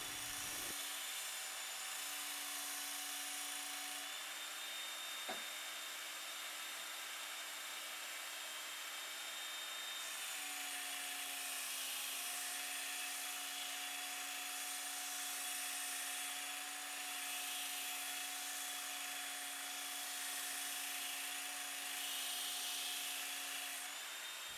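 A Ken Onion Mk2 knife and tool sharpener runs a P120 grip belt on its blade grinding attachment at speed setting 6, giving a loud, continuous motor whine and grinding hiss that shifts pitch slightly across several even passes.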